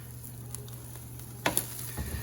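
Chorizo and eggs sizzle on a Blackstone 17-inch E-Series electric griddle, a steady soft hiss with a low hum beneath and a couple of sharp spatula scrapes and taps as the mixture is stirred.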